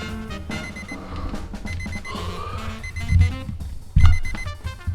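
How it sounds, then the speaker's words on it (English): An alarm clock rings in the morning with a loud, steady run of tonal beeps and electronic pulses close by, broken by a couple of heavy thumps, with no voices. "Then when the time comes in the morning, the alarm's going off"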